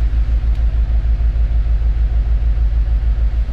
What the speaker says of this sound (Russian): Даже выхлопная болтается.